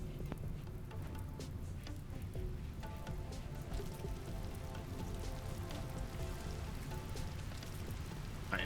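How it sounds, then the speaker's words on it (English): Steady RimWorld rain patters on a surface, a dense hiss of drops with occasional louder splats, continuous and fairly quiet throughout. "Right, here's the rain."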